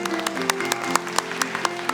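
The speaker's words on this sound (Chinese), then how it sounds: "咱拍手啊，好些。" A church congregation clapping together, rapid rhythmic handclaps forming a short burst of applause in a large room, with a faint hum underneath.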